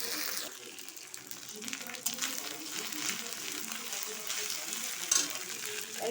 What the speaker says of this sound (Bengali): আদাটা দিয়েও আবার একটু ভাজা ভাজা করে নেব মশলাগুলো